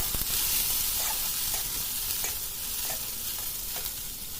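Chili and sliced bean sprouts stir-fried in a hot pan at home, with a steady bright sizzle and the occasional scrape and toss of a spatula, continuous and close with no voices.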